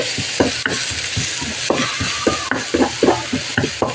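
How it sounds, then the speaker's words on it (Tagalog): Garlic stirred in a pan with butter or oil, a spatula scraping and tapping in irregular strokes over a constant bright sizzle, close and alone. "ilalagay na natin itong ating bawang. Tapos, i-mix lang natin"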